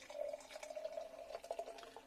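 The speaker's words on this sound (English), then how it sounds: "Let's pour it out, give it a go." New Forest traditional farmhouse cider, lightly carbonated, is poured in a thin steady stream, a faint continuous trickle with a few small splashes.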